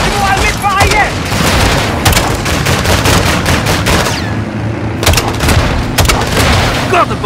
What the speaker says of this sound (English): LMG on the right!